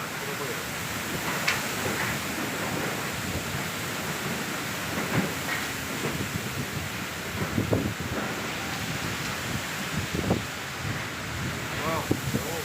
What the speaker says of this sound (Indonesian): angin kencang di kota Surabaya